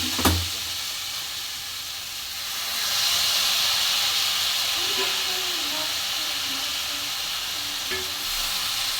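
Water poured into a pan of frying small-fish curry (chuno macher jhal): a loud burst of hissing sizzle rises and then settles into steady bubbling, with a soft voice speaking underneath.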